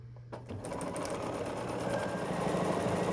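A sewing machine stitches quilt patches together, starting after a brief moment and then running in a steady, continuous whir at close range until the end.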